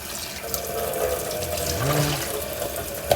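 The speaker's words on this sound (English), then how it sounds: "I'm just kind of slosh it around, drain it out, pour it out one more time" Water sloshing and draining out of a container of rinsed raspberries, a continuous running splash with faint knocks and a small clunk near the end, close by with no talking.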